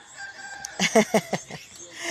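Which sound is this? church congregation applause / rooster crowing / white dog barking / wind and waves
rooster crowing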